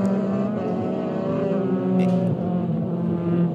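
Euroformula Open race cars run on a wet track at Estoril in Portugal during qualifying, their engines droning loudly and steadily with shifting pitch as they pass.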